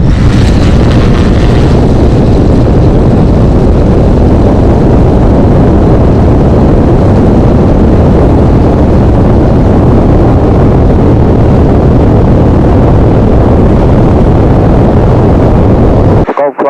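A light aircraft takes off, its engine a loud steady drone that holds throughout before cutting off abruptly at the end.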